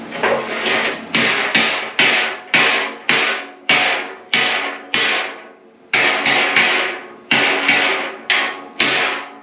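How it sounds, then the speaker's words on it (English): Slag hammer chipping slag off freshly plasma-cut metal on a Crossfire CNC plasma table: rapid, loud, sharp metallic strikes in quick bursts of several blows with brief pauses, close and alone. "got a slag hammer that would work good"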